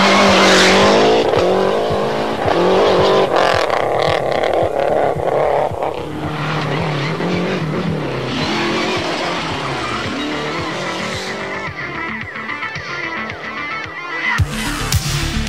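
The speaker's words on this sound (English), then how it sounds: "This is a Lancia Delta, and a very special one." A special Lancia Delta rally car, once driven by Juha Kankkunen, roars loud and continuously with tire squeal and skidding. The sound drops out briefly near the end, then returns.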